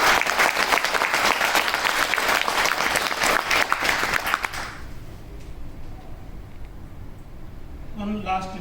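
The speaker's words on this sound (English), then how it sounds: "Please give a round of applause." Loud, dense audience applause fills an opening-remarks hall at a sports event, then cuts off about halfway through, leaving quiet room tone before a voice starts at the end.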